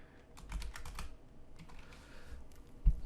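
A computer keyboard clicks out the wsreset command on a Windows 10 PC: a quick burst of light, close keystrokes, a pause, then a few more taps, with no talking.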